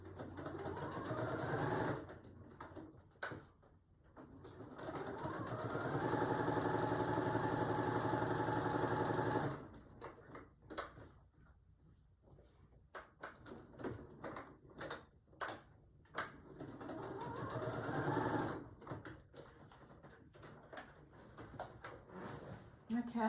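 A sewing machine runs in stop-start bursts, long steady whirring stretches broken by pauses and short stitching spurts, fairly close and prominent throughout.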